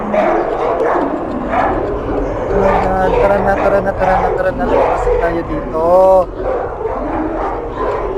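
Yappy, dog-like barks and whimpers from game creatures sound under an excited, talking voice, with a sharp whining cry near the end.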